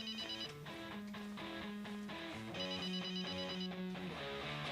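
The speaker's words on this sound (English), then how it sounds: "Who's ringing? It's not me. Me either. Sounds like it's there." A telephone rings steadily with a bright, repeating electronic tone, close and fairly loud, in a room where people wonder whose phone it is.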